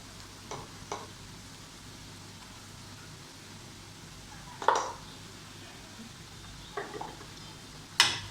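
Spices stirred into browned fried onions in a pan: a soft steady sizzle with a few scraping clinks of the spoon against the pan, quiet and close, no talk.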